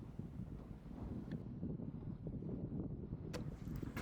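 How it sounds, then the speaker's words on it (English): Steady wind buffets and rumbles over a sailboat crossing Start Bay toward Hallsands in a westerly breeze of about 8 to 10 knots, a continuous low gusty roar close to the microphone with no talking. "We've got about 8 to 10 knots of wind."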